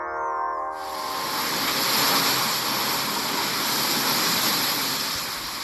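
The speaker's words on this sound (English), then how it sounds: "That was the sound of Hurricane Melissa hitting Jamaica yesterday." Hurricane Melissa striking Jamaica: a loud, continuous roar of wind and driving rain that swells and holds steady throughout, preceded by a brief tonal sound at the very start.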